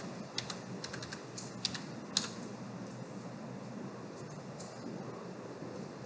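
Someone enters a phone number on a computer keyboard, sending short bursts of soft key clicks close to the microphone. A quiet steady room hum carries on between the taps.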